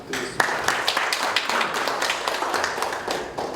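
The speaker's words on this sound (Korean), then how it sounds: "다시 한번 큰 박수 부탁드리겠습니다." Applause at a policy seminar on post-COVID employment in Jeju after a professor's presentation, a room of people clapping with a few sharper individual claps standing out, steady and fairly close.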